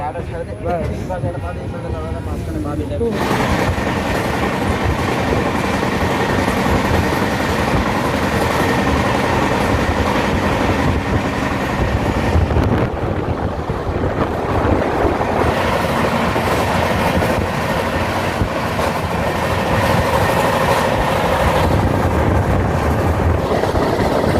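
The 12860 Gitanjali Express running on rails, heard from inside a coach as a loud, continuous rumble with rhythmic clickety-clack of wheels over track joints, with voices faintly underneath.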